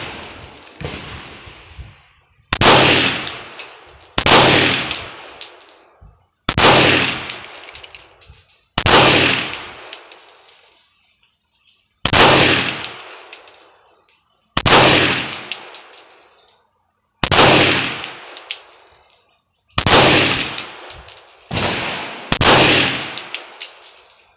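Gunshots at a shooting range striking steel targets, about nine loud sharp reports each followed by a ringing metallic clang, spaced a couple of seconds apart, close and with no talk.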